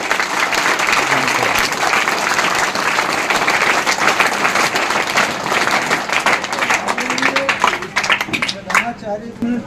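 Sustained applause and clapping from an audience at a Teachers' Day school function, loud and dense throughout, with a voice starting to speak near the end as the clapping thins.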